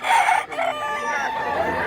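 A Talisay rooster for sale at a gamefowl market crows close by, one loud drawn-out call that wavers and trails off, with faint voices in the background.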